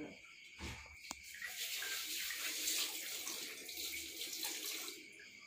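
Halved lemongrass stalks are rinsed under a running tap, water splashing steadily into a sink with a couple of sharp knocks near the start; insects chirp faintly in the background.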